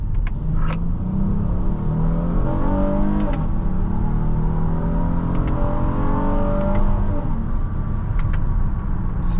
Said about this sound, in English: Quick acceleration for an Odyssey.